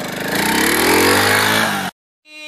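Motorbike engine revving up as the rider sets off, a loud, close, rising mechanical roar that builds over about two seconds, then cuts off abruptly before a brief fainter tonal sound.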